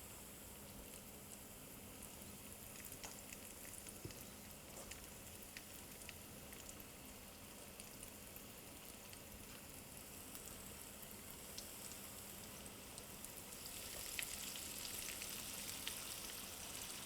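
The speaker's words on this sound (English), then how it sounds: "we're going to start putting our squirrel into our oil and start to let that cook" Squirrel pieces and onions fry in hot oil with a steady, soft sizzle and crackle that runs throughout and grows slightly louder near the end.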